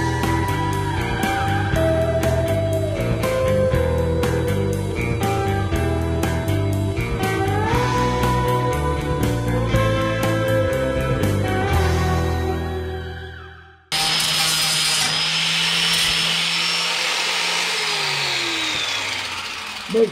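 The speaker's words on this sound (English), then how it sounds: "I'm gonna go ahead and grind this down, and it's probably gonna get loud" Background music plays for most of the time, then an angle grinder with a flap disc takes over, whining loudly and steadily as it grinds down a weld on a 1957–1958 Plymouth car body.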